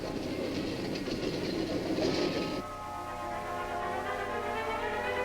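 A Bayline Railway train rolls past on the tracks, a steady close mechanical rumble with a rhythmic clatter that shifts to a smoother, tonal hum partway through.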